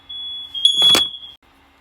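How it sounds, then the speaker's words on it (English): A household smoke alarm sounds a steady, piercing high beep lasting over a second, with a burst of broad noise in the middle of the tone, close and loud in a quiet room. "I don't know what is wrong with the fire alarms today in my house, but they keep going off this morning."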